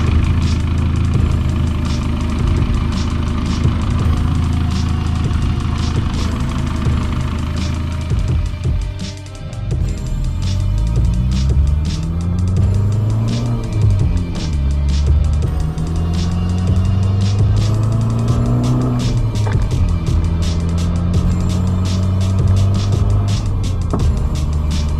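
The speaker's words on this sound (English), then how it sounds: "So we'll start the car up, see how everything runs," A car engine runs steadily, idling with a low drone and then revving up and down several times as it pulls away, loud and close with no talking.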